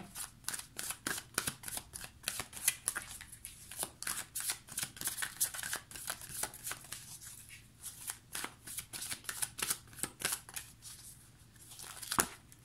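Tarot cards for an angel-themed reading are shuffled and handled in a steady run of crisp, close riffling snaps and flicks, with no voices over them.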